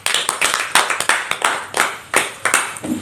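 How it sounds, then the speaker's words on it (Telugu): Children clapping in a classroom on Teachers' Day to welcome a guest: a quick, uneven run of sharp, close hand claps. "వారిని చప్పట్లతో ఆహ్వానిద్దామా?"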